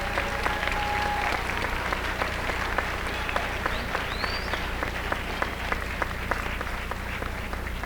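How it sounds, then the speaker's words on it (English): Sustained applause from a large crowd at a 2016 Cuesta College commencement ceremony, dense steady clapping filling the space at even loudness throughout. "Please give them a round of applause."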